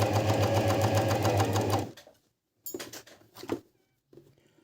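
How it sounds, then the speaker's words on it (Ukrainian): A Family 8000w sewing machine stitching a narrow seam, running in a fast, steady, buzzing rhythm for about two seconds, then stopping, followed by a few brief close handling clicks. "Так, у нас тут вузенький шов стоїть. Тут я ниточку цю притримую і поїхали."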